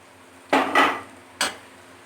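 Okra dropped into a pan of fried spices for bhindi fry, heard as a couple of sharp clattering impacts with a brief rustle, followed by a third quick clink, close and fairly loud with no talk.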